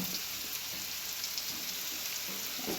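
Sliced bitter gourd sautés in a hot pan with a steady, fairly quiet sizzle and crackle, broken now and then by soft stirring.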